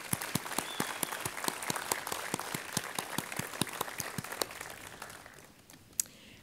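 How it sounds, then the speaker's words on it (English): A ribbon-cutting audience at the Orange County Museum of Art applauds, with dense, even clapping that stays steady and then thins out toward the end, ending on one sharp clap. "deserves a round of applause"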